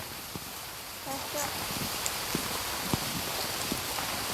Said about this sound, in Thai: อ้าวฝนตก